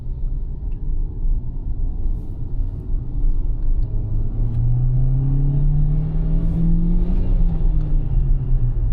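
Hyundai Venue 1.2 naturally aspirated petrol engine pulling hard in second gear, a steady rumble whose pitch climbs and grows louder as revs rise, then drops away near the end, heard from inside the cabin with no talking.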